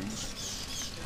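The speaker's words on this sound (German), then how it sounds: "Fledermäuse! Ich kriege Angst." Bats in the video game Dragon's Dogma make faint, high, fluttering chitter and patter that runs steadily through the moment, quiet and unbroken.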